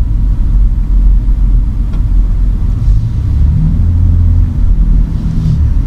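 Road traffic in Riyadh heard from inside a moving car, a steady loud low rumble of engine and tyre noise filling the whole stretch with no pauses.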